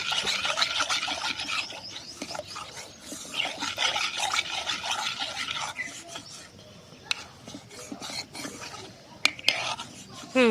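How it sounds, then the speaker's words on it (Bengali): A spoon scraping and rubbing around a metal pot while a milk mixture for gokul pithe is stirred, a steady close rasping that runs throughout with a few sharp clinks of metal. "ভালো করে মিক্স করে নিচ্ছে মা"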